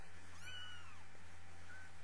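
A little tiger-striped boy kitten gives a couple of thin, rising meows, close by and fairly soft, over a steady low indoor hum.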